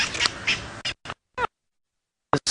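Francolins call at sunrise on a safari drive, giving a few short, raspy bursts that stand alone against silence after a noisy opening.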